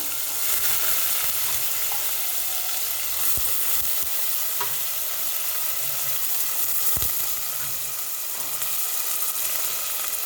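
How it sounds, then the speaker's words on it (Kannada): Beans, carrots and other vegetables frying in hot oil for hotel-style upma, a steady close sizzle with a few sharp stirring knocks against the pan, no talking. "ಫಸ್ಟು ಎಣ್ಣೆಗೆ ತರಕಾರಿ ಎಲ್ಲ ಹಾಕೋಣ ಸ್ವಲ್ಪ ತರಕಾರಿ ಎಲ್ಲ ಫ್ರೈ ಮಾಡ್ಕೋಬೇಕು"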